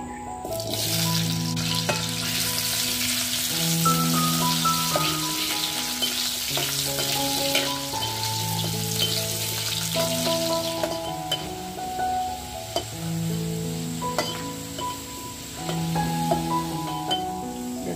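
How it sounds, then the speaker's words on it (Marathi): Potatoes frying in hot oil on a wood-fired chulha while sabudana khichdi is being prepared; a steady close sizzle runs throughout beneath melodic instrumental music. "आता आपण तेल ओतून घेऊया बटाटे फ्राय करण्यासाठी"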